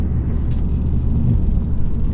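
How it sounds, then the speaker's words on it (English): 2016 Ford Focus ST-3 diesel engine, a loud, low, throaty drone heard steadily while driving, with no talking. "let's do a sound test actually, because it does sound quite good for a diesel"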